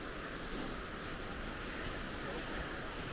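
A river runs outdoors after a storm, its swollen current giving a steady, low, broadband rush that stays constant throughout, fairly faint and unbroken.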